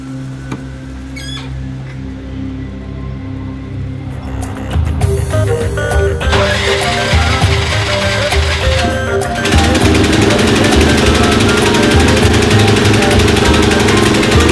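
A Craftsman riding lawn mower is cranked with the key, its starter whirring briefly before the small engine catches and settles into a loud, steady, rattling run close by.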